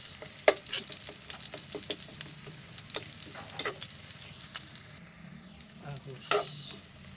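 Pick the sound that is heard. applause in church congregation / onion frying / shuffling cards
onion frying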